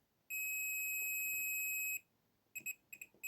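A multimeter on continuity test sounds a steady high electronic tone for about a second and a half against a transistor leg during a UPS repair, then a few short, choppy beeps follow as the probes touch and lift.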